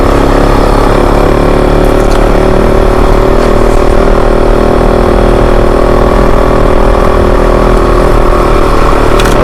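Kove 450 Rally motorcycle engine running steadily while riding through an Arizona box canyon, a loud continuous drone with little change in pitch across the whole stretch.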